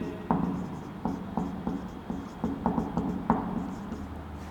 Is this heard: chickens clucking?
no